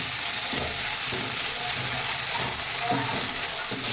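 Onion, tomato and green chillies fry in a pan, giving a steady, close sizzle with occasional stirring scrapes throughout.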